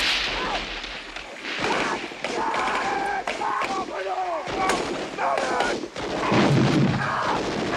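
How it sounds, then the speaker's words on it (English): Mortar fire and explosions in the war film Platoon (1986), with repeated heavy booms and cracking blasts at close and mid distance, mixed with shouting voices and battle noise. "Mortars."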